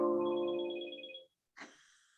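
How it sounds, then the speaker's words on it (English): A telephone rings close by, one long trilling electronic ring that cuts off abruptly, followed by a brief second burst after a short silence, with no voices over it. "Someone has the phone on."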